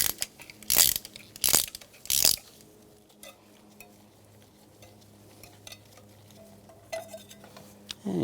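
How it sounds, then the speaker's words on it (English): A magnetic 5/8 spark plug socket ratchets loose a spark plug on a BMW 328i, giving three loud clicking bursts early on, then quieter intermittent clicks and scrapes with faint mechanical noise. "Loosen up the spark plug."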